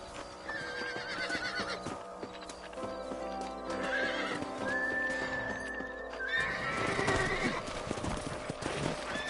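In the video game Red Dead Redemption, a horse clip-clops in a steady galloping rhythm and lets out a whinny. The hoofbeats are clear and close, with game ambience and music around them, and there is no speech.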